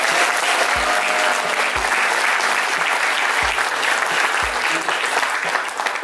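Loud, sustained applause from an audience at a sales seminar, with thick continuous clapping and a few low thumps running under it throughout.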